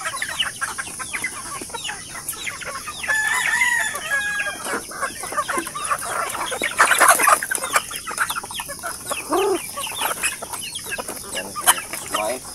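Native backyard chickens are fed in the morning, clucking in scattered bursts with a rooster crowing midway, near and fairly lively against an open outdoor background.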